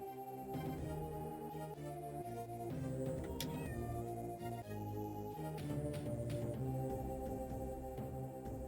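Cat meows from an Amiga homebrew platform game, set over continuous chiptune-style music with steady tones throughout.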